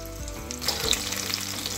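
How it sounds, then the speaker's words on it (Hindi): Soya chunks fry in hot oil with a steady close sizzle and light bubbling crackle, short and continuous, with no voices. "अब ये जो सोयाबीन बड़ी है वो हमें फ्राई कर लेनी है।"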